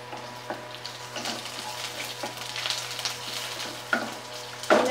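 Red chilies and curry leaves sizzle and crackle in hot oil in a pan while being stirred, a steady frying hiss with occasional louder pops and spoon scrapes, close and alone.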